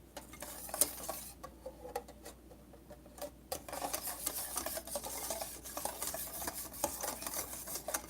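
A spoon scrapes and clinks around a bowl while lemon square batter from a boxed mix is stirred, the soft rubbing strokes coming close and irregular, with sharper taps against the dish at times.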